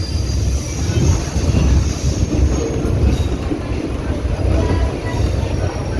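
A DEMU train runs on the short Wankaner to Morbi route, a steady close rumble of wheels and carriage with a faint high whine over it, continuous throughout.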